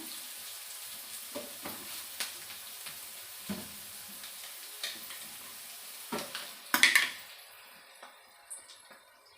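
Food frying in a pan for a three-spice vegetable palya in a home kitchen, a steady soft sizzle with scattered stirring scrapes and clinks, building to a louder burst of sizzle and clatter near the end.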